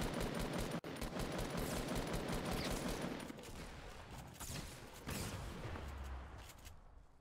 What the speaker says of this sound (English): There are more shots.